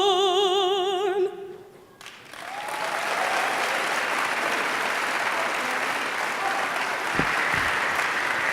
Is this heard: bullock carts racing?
no